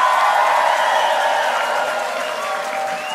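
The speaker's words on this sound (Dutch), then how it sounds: "En dan een groot applaus voor deze toppers" Audience applause and cheering from a crowd honouring prize winners at a live children's carnival song festival, a steady dense wash of clapping that holds throughout and eases slightly toward the end.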